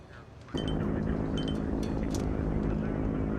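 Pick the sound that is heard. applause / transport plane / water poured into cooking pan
transport plane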